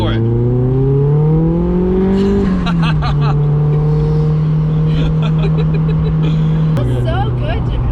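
A right-hand drive car accelerates hard, its engine note climbing steadily, dropping at a gear change, then holding a loud, sustained drone while voices talk over it inside the cabin.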